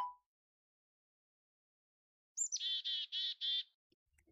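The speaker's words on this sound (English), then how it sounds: "This birdie looks like it has a black cap on its head. That's why it's called a black cap chickadee." A cartoon black-capped chickadee gives a quick series of five bright, clean chirps after a long silence, close and clear with no voices over it.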